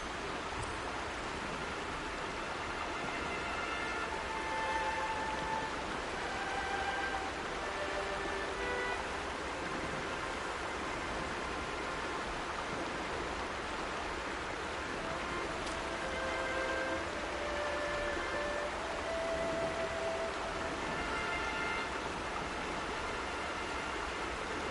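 Steady rain in Horizon Zero Dawn, a soft continuous hiss of falling drops with no other sounds.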